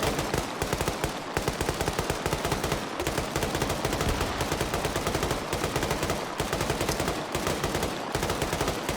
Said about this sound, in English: Infidel poking out, putting some suppressive fire out there.